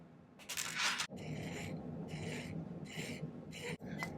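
Rhythmic rasping strokes of a file on a silver ring, five or six close, even passes with brief pauses between them as the metal is filed flat.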